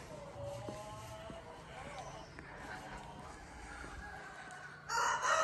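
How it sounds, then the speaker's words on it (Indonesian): Rooster crowing in a Dai village in China, a few clear crows carrying over a background of people talking and general village bustle, with a louder burst of activity near the end. "masih ada ayamnya."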